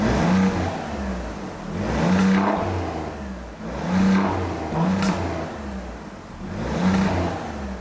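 An Alfa Romeo Quadrifoglio V6 engine revs in D mode, about five rising and falling revs in steady succession, close and clear, with no one talking.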